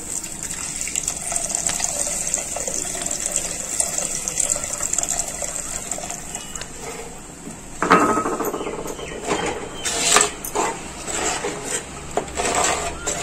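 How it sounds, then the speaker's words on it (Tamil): Water splashes and gushes into a pan of tamarind fish curry in several bursts, mixed with clinking of metal cookware against a quiet background. "தேவையான அளவு தண்ணி எடுத்து ஊத்திக்கலாம் நம்ம."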